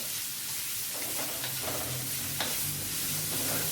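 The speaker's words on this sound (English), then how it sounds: "Stir again until the shrimp change the color up to the pink color." Shrimp stir-fried in a pan with aromatic and hard vegetables, a dense, close sizzle with scraping stirs of the spatula breaking through at intervals.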